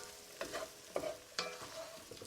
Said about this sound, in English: You just want to keep stirring it so it doesn't stick to the bottom, and you don't want that flour to burn.